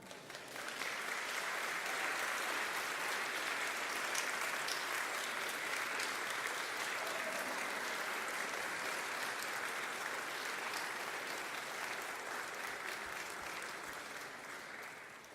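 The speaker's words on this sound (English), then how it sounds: "with a round of applause." A large audience of families and friends at a medical school white coat ceremony claps together in sustained, dense applause, loud and steady for about fifteen seconds before slowly tapering off.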